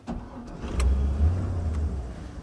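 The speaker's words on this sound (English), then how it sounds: "and then just restart the car" A 1952 Chevrolet Styleline Deluxe engine cranks briefly and catches, settling into a low, steady idle rumble close by.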